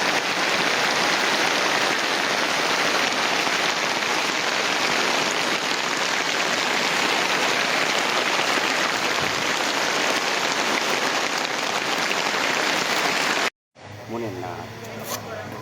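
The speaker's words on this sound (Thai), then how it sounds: "บรรยากาศตอนนี้ฝนตกแห้งหลายทุกมื้อเลยฝนตก" Heavy rain pours in a steady, dense hiss that holds loud and unbroken for about thirteen seconds, then cuts off abruptly before a brief, different sound.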